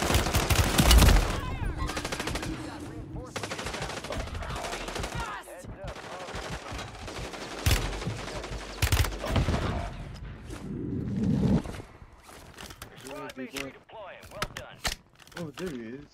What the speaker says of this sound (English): I'm shooting at him. I'm shooting at you.